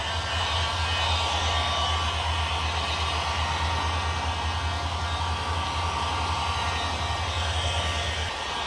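A heat gun blows continuously on window tint film being applied to a car's front window, a steady close airy roar with a low hum underneath throughout.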